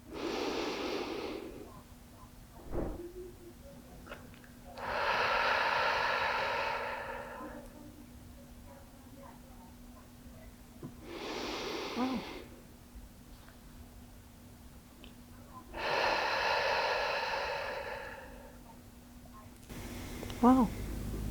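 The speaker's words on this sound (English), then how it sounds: "breathing in, and then holding it, breathing out, and holding it in the other 4 seconds" Slow, deep breathing exercise: four long, airy breaths drawn in and pushed out at even intervals, each separated by several seconds of quiet hold, close and soft, ending with a faint voice.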